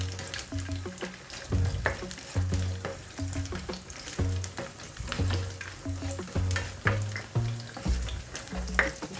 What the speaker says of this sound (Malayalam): ഞാൻ അതിലേക്ക് മുന്തിരി ഇട്ട് കൊടുക്കുകയാണ്